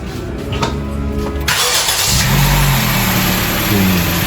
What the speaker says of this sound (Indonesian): Sebentar ya, kita hidupin dulu mesinnya.